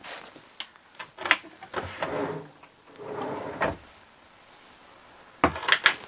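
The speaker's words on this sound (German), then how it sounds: "Wir haben hier vorne 2 weitere Schubladen untergebracht." Drawers in a Chausson 660 Exclusive Line camper van slide open and shut, giving several close, sharp knocks and rolling rumbles with a quiet gap in between.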